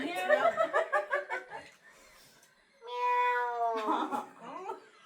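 A voice imitates a cat, drawing out a long wavering meow after a run of quick, laughing syllables.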